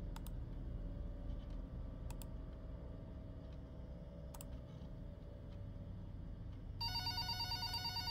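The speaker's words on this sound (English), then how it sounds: "Why is the phone ringing?" A telephone rings out at around the seven-second mark inside a horror puzzle game set in a warehouse, with repeated electronic bell bursts rising over a steady low ambient drone and faint clicks.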